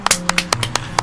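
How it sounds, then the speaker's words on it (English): A single person clapping during a casual livestream, about eight sharp, close claps in an uneven rhythm over one second, alone with no talk. "Seriously, a big round of applause."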